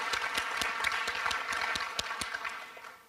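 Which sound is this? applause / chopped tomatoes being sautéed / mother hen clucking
applause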